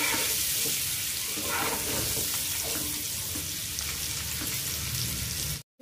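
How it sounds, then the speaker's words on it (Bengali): Eggs seasoned with salt, turmeric and chili powder frying in a pan, giving a continuous hissing sizzle at close range, steady throughout before cutting off abruptly near the end. "ডিমগুলোকে ভালো করে ভেজে নিব।"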